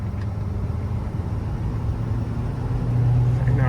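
Ford F550 bucket truck with a 6.7 liter diesel engine turning and accelerating on a road, a steady low engine rumble that rises slightly in loudness and pitch toward the end.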